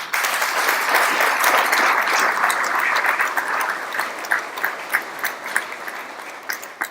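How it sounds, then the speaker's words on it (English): Sustained applause at a military awards ceremony, steady dense clapping from an audience that gradually breaks up into scattered individual claps toward the end. "So a round of applause for all of you."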